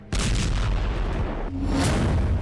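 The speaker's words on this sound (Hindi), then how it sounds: "पच्चीस टन बारूद का धमाका।" A massive blast from twenty-five tonnes of explosive, a loud sustained low rumble and roar filling the whole stretch with no pause, alone without any voices.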